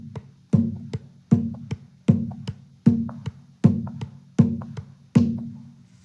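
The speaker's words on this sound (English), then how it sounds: "Now we're going to move on to the llamador." Llamador drum keeping a cumbia pulse, an evenly spaced series of short, punchy low thumps roughly every three-quarters of a second, each paired with a lighter tap, close and unaccompanied.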